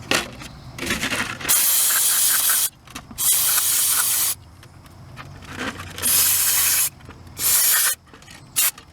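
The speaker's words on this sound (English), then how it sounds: "always use your safety glasses when you're going to spray carburetor cleaner" Carburetor cleaner sprayed from an aerosol can onto a Murray 20-inch lawn mower carburetor, in several loud hissing bursts of one to two seconds each, separated by short pauses.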